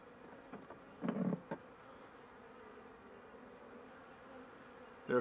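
Honey bees buzz faintly and steadily in an opened hive with low honey stores, where some cells hold capped brood, eggs and young larvae. A few brief, louder bursts of buzzing stand out against the quiet background hum.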